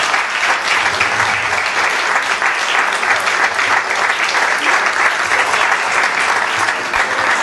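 Sustained applause from a gala audience at an awards ceremony, dense and steady throughout with no pauses, loud and close, filling the hall without a break.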